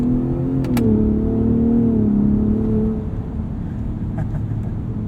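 A 2021 Ford F-150 Raptor with the 37 Performance Package and 10-speed automatic accelerates, its engine note loud and close, climbing and then settling as the gears change.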